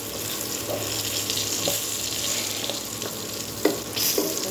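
Pieces of pointed gourd and eggplant fry in hot oil, a steady close sizzle with occasional sharp clicks and taps of a utensil stirring the pan, no talking.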